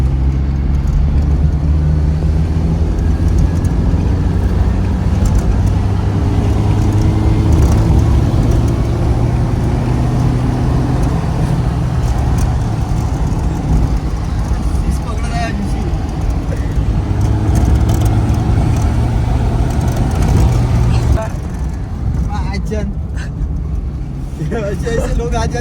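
A car engine drones steadily and loudly from inside the cabin during a test drive, with a low rumble that eases slightly near the end while voices talk over it.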